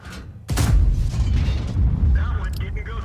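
A tank cannon shot strikes a Conqueror without penetrating in World of Tanks, fired upward from a T-30 tank destroyer: a sudden loud boom with a deep rumbling tail that lingers, followed by faint mechanical clatter.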